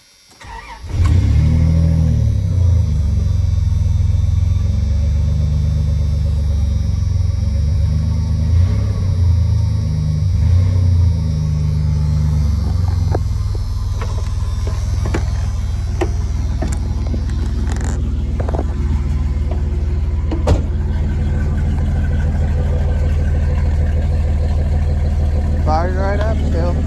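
A truck with 185,000 miles makes a cold start, the engine catching quickly and settling into a loud, steady rumbling idle up close, with a few clicks and light knocks in the cab over the top.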